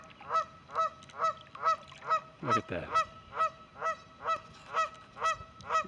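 Canada geese by a lake give a steady series of loud, evenly spaced honks close by, while a person briefly speaks partway through.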